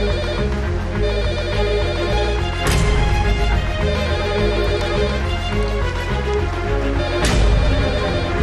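Telephone ringing in a tense scene of a Turkish drama, a loud repeating electronic ringtone with a looping melodic pattern and two sharp accents.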